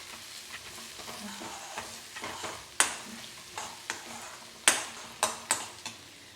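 Capsicum and mixed vegetables fry in a pan with a steady soft sizzle, broken by a string of sharp utensil clicks and stirring scrapes against the pan. No one speaks.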